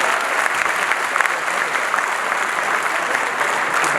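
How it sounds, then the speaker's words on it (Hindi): An audience at a national seminar in Jawahar Bhawan claps loudly and steadily for several seconds, a dense even wash of applause with no voices on top. "मुझे लगता है कि एक और जोर की ताली बजनी चाहिए अशोक जी को।"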